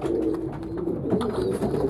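Several pigeons coo steadily in a low, throaty murmur, the calls overlapping continuously and fairly close.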